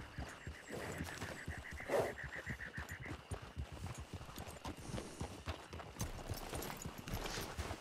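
Horse hooves clip-clop steadily in the open-world Western game Red Dead Redemption 2, a rhythmic run of mid-level hoofbeats under ambient game sound, with one brief louder burst near the start.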